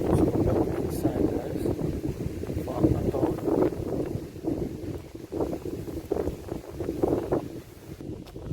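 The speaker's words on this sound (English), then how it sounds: "we are up on a hill guys, so it's quite windy" Wind blowing across a hilltop in rural St Elizabeth, Jamaica, a steady rough buffeting rumble against the microphone that swells and dips throughout, with speech mixed in at moments.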